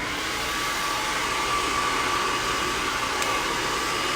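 A hair dryer blows steadily at close range in a salon while hair is blow-dried in sections, giving a loud, unbroken whooshing hiss with no talking over it.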